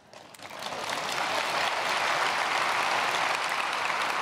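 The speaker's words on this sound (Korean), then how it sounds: "이거 잘 외우고 박수 받기는 처음입니다" A church congregation at a Wednesday prayer service bursts into applause that swells within the first second, then holds as a dense, loud, sustained clatter of many hands.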